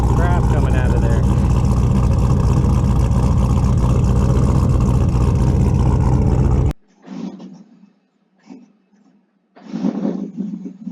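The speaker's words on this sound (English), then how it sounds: "That was me hitting the gas trying to get it to idle a little bit." A 1992 Chevy C1500 with a swapped LS1 V8 engine, running rich, revs loudly as the gas pedal is pressed, a dense roaring burst that cuts off abruptly, followed by quieter engine rumble that surges again near the end.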